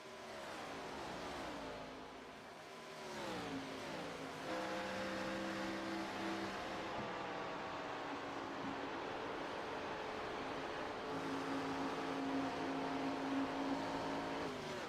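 Race cars in an ARCA Series sim racing game at Nashville drone continuously for the whole stretch, engine pitches rising and falling as several cars rev and accelerate together, loud and steady, with no talking.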